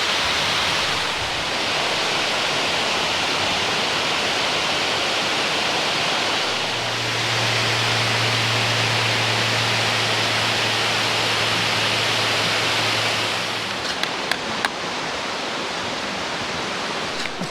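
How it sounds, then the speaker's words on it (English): Waterfall pouring over a dam at Chewacla in Auburn, Alabama, a steady broad rushing roar that holds unbroken throughout, with a low hum midway and a few faint clicks near the end. "The falls coming over the dam."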